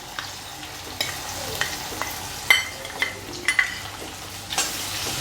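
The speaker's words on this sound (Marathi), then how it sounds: "आता आपण छान परतवून घेऊया।" Ginger garlic paste sautés in a pan for dal tadka, giving a steady soft sizzle broken by regular scrapes and taps of a spoon stirring against the pan.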